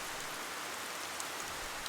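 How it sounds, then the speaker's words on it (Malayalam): Heavy rain pours down during a flood, a steady, dense hiss of downpour that holds constant throughout with no voices. "അപ്പോഴും മഴ പെയ്തുകൊണ്ടേയിരുന്നു"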